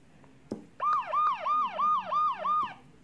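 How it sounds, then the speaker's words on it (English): A police siren wails in six rapid rising-and-falling cycles, loud and close, after a single sharp knock. "Police car. Police car."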